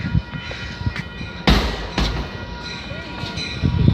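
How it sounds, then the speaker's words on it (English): An Amtrak train rolls past a station depot, a steady low rumble with sharp clanking bursts from the cars and wheels, fairly close and loud throughout, with faint voices mixed in. "Here comes Amtrak."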